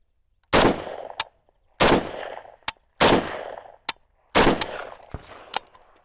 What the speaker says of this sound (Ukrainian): Стріляємо по бумазі мішенням